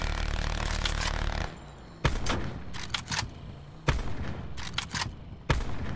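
A sentry gun in Call of Duty Blackout fires in sharp, repeated bursts, loud cracks punctuating a battle-royale match with short pauses between volleys.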